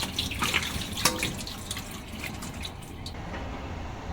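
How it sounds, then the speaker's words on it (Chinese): Water poured and draining off pork ribs that have soaked in a basin, a steady splashing trickle with a few sharper drips and clinks, close and moderate in level, no voices. "咱就再洗一下，把水倒出来，沥净水分。"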